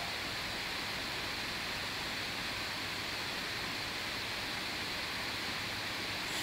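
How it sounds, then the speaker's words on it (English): A steady broadband hiss fills the whole stretch, like a fan running close to a microphone, constant and unchanging with no talking. "yeah, it's the fan running"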